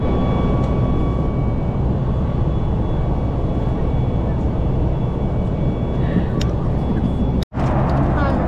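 Steady, loud broadband drone of a passenger plane's engines heard from inside the aircraft cabin on a flight to Hawaii, continuous throughout with a brief dropout near the end.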